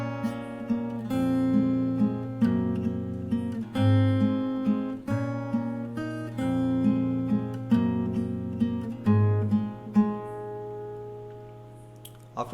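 Fingerstyle acoustic guitar plays a melody twice through, with sustained bass notes under plucked treble lines in a steady, repeating phrase, close and clear with no talking.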